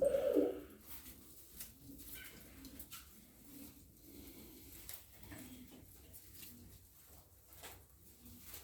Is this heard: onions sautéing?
no